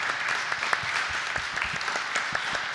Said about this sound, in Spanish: Un aplauso para Sebastián, por favor.